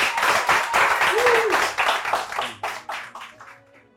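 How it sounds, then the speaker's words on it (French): A short burst of applause from a group, with the clapping quickly fading into a few separate claps as a voice briefly sounds. "Applaudissez pour vous."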